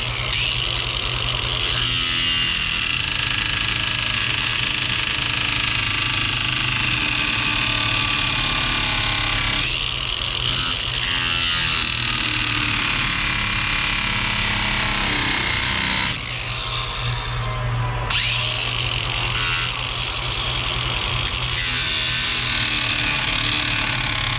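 Cutoff wheel slicing through metal on a 1966 Ford F-100 4x4: a loud, continuous, harsh grinding whine that drops out briefly a few times before resuming, close up with no talking.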